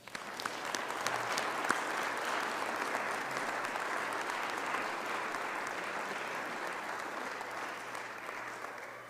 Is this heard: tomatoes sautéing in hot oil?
no